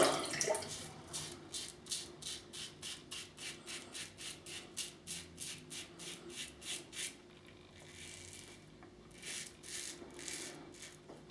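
A razor being rinsed under a running tap: a rapid series of short, regular splashing bursts as the blade is swished through the stream, then a steadier run of water with a few more sloshes, close and fairly quiet.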